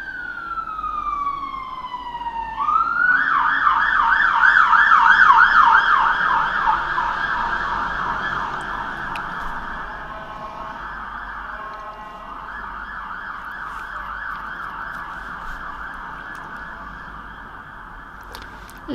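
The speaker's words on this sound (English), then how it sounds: "Another fucking siren." An emergency vehicle siren winds up and wails loudly in fast repeating cycles, then continues more steadily, slightly fading as it moves away over London traffic noise.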